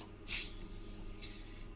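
A leaking air compressor in a welding workshop gives two short sharp bursts of air hiss after being switched off, the first louder, the second fainter, with no talk.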